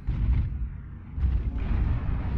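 Enemy mechs firing in the video game MechWarrior, heavy booming bursts of weapon fire that come in two dense rumbling waves, loud and low-pitched, with no talk.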